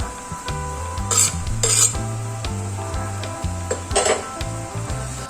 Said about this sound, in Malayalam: അടിക്ക് പിടിക്കാതിരിക്കാനൊക്കെ വേണ്ടി ശരിക്കൊന്ന് ഒന്ന് അടിയിലൊക്കെ തട്ടുന്നത് പോലെ ഒന്ന് ഇളക്കി കൊടുത്ത്